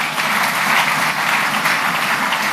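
A church congregation applauding during a worship service, a dense, sustained wash of many hands clapping at once, loud and close, with no voices standing out over it.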